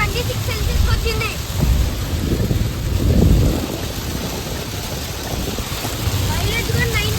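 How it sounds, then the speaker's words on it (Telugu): Heavy rain pours during a road trip from Chennai to Rameshwaram, a dense continuous roar with low rumbling swells and wind buffeting, as voices talk faintly at times. "పెద్ద వర్షం పడుతుంది చూడండి."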